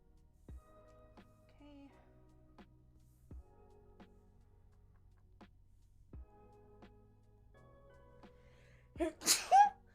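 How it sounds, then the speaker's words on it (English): A person sneezes in a quick cluster of two or three bursts near the end of a quiet home stream setup, after long near-silence broken only by faint ticks and clicks. "Keep sneezing."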